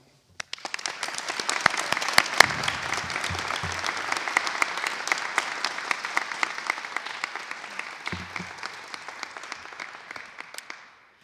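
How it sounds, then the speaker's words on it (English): A crowd applauds steadily for about ten seconds at a press conference, dense clapping that swells at first and then fades out. "Please welcome and give a great round of applause for Representative LaPointe."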